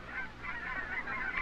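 Wild geese honk continuously during a waterfowl hunt, a dense overlapping chorus of calls heard at moderate distance with no talk.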